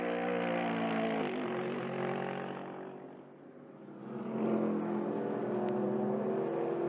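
An Emil Frey Racing Lexus GT race car runs down the Hangar Straight at Silverstone in the International GT Open. Its engine drone fades away, then a fresh engine roar builds back up, steady and fairly loud, with no voices.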